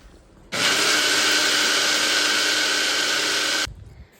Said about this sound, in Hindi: Let's grind it.